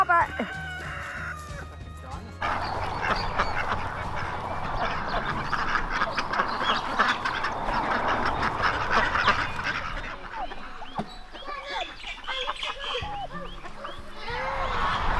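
Geese and other poultry on a homestead honk and cackle in a busy, overlapping chorus at close range, with a rooster's crow among them and a person speaking at times.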